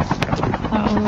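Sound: helicopter flying in a video game

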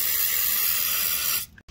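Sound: spraying penetrating lube on a rusty shock absorber nut

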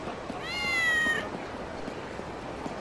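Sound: cat meowing in PSP video game Kurohyou 2

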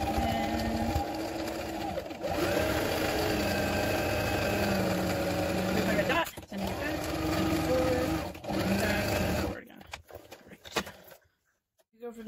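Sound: sewing machine sewing a straight stitch

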